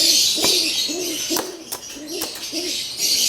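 Racing pigeons coo in a breeding loft, several soft rounded calls repeating at a steady pace over a constant airy background hiss, fairly close, with a few sharp clicks in between.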